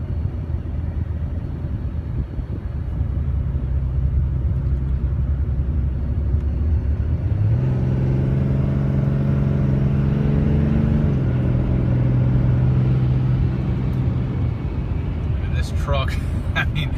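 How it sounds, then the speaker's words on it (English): A Dodge Ram 3500 dually pickup cruises a winding country road, its engine droning low and steady, rising in pitch as it accelerates midway, with brief clatter near the end. "I wouldn't be taking this truck down this country windy road in these speeds unless it drove tight as a tick"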